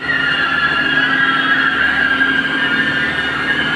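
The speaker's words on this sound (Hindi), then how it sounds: "जिस तरीके से इस गाड़ी को खींचा जा रहा है और इसकी टायरों की फ्रिक्शन की जो आप आवाजें सुन रहे हैं" Continuous grinding friction from the tires of a Range Rover being dragged by a tractor, a loud steady scraping rumble with a whining tone, unbroken and close by.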